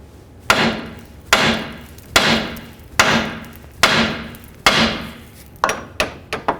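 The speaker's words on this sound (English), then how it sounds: "Now we're going to take our hammer and hit right along this area here, being careful not to damage our boot or the stud." A hammer strikes the tie rod end on a Chevy S-10 front suspension: about nine sharp metallic blows, evenly spaced at first and then quicker at the end, loud and close with short ringing decay.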